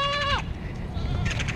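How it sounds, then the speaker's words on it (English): A goat lets out one short, loud, wavering bleat close by, then outdoor noise and faint movement follow. "Hey, look, there's more goats."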